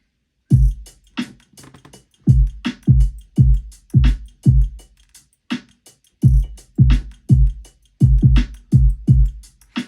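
Punchy electronic drum pad hits, deep kick-like thumps with snappy accents, played in a steady repeating rhythm with short gaps, loud and close.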